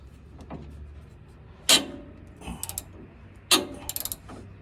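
A ratchet wrench works a bolt loose on a Dodge Ram 2500 van, giving two sharp metallic clacks followed by quick bursts of clicking from the pawl, close and alone against quiet background.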